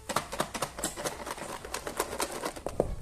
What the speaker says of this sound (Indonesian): Setelah ditambahkan bumbu balado, kita tutup. Setelah itu kita kocok.